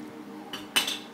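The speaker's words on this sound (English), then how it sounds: "I found a frying pan." A metal frying pan being picked up and handled, giving a couple of bright clinks and one louder clattering knock, close and brief, with no talking.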